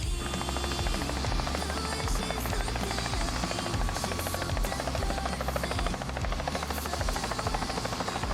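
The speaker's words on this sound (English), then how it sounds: "We are catching a freaking helicopter back to the car." A helicopter drones loudly and steadily, rotor chop and engine whine filling the sound throughout at close range.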